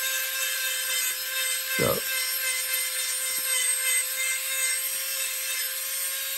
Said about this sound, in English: to be able to grind that away and leave a nice smooth finish when you get done here